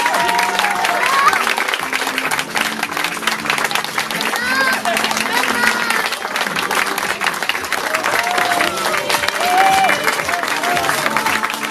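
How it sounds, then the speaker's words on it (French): Loud, sustained applause from a crowd at a medieval, Viking and steampunk wedding fashion show, dense clapping with cheering and crowd babble mixed in, continuing strongly for about twelve seconds. "Je pense qu'on peut l'applaudir très très fort."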